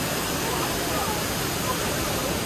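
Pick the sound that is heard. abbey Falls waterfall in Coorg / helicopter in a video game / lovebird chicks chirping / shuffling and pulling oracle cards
abbey Falls waterfall in Coorg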